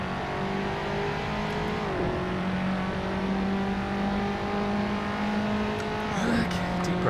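Race car engine in Assetto Corsa holding a steady high drone, with pitch dips during gear changes and brief tire noise near the end, running continuously in the foreground.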